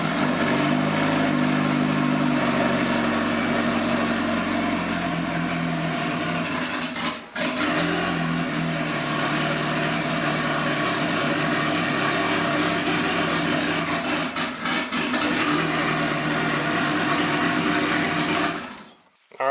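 A Honda CRX engine running on a Haltech Elite ECU after start-up: a loud, steady drone with brief dips near the middle, then it cuts off abruptly at the end.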